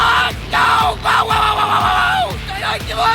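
An angry crowd in the One Punch Man anime yells and bellows together, a loud, continuous surge of shouting voices.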